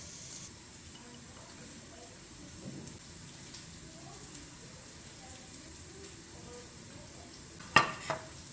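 Small potatoes and green peas stir-fry in a pan, a soft steady sizzle at moderate distance, ending in a couple of sharp utensil clinks.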